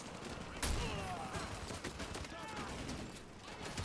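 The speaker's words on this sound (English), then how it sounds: "I guess this is a shotgun after all." A shotgun fires in the Call of Duty Modern Warfare 2 video game, starting with a sharp blast and followed by a rapid series of further shots and impacts, all heard fairly quietly in a busy firefight.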